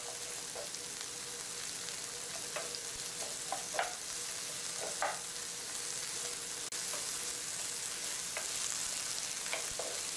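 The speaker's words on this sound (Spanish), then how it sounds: "Echamos la cebolla con el ajo. Dejamos que dore ligeramente" Onion and garlic sizzle steadily in a hot pan, a close continuous fry with scattered crackles and pops and the occasional stir, alone without talk.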